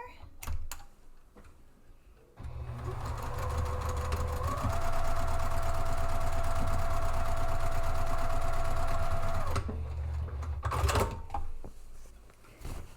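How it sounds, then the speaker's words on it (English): A sewing machine stitches a seam across a drawstring purse: a steady, loud, close mechanical whirring hum running for several seconds, framed by brief handling clicks and rustles before and after. "And then I'll stitch right across there."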